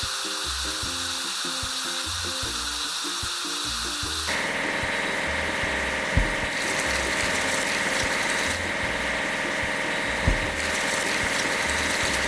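A tamper construction machine runs with a steady engine drone and pulsing low rumble, joined partway through by a louder hissing layer and two sharp knocks.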